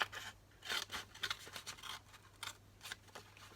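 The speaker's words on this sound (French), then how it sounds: "je vais continuer avec mon ciseau" Scissors snip through material while a phone holder for a wall socket is crafted, giving a quiet series of short, crisp cuts in an irregular rhythm, close by with no talking.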